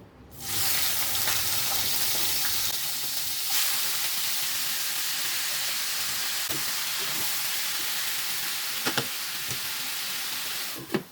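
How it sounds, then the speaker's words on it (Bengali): Shrimp seasoned with turmeric and salt fry in a pan with a loud, steady sizzling hiss that starts suddenly and holds, punctuated by a few faint utensil clicks near the end and no talking. "চিংড়ি মাছ ভাজা হয়ে গেছে"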